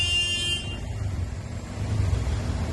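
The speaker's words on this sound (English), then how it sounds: "This is creating a huge traffic congestion" Congested traffic beside road excavation near Khadki Railway Station, with a car horn honking briefly at the start over a steady, fairly close rumble of idling and passing vehicles.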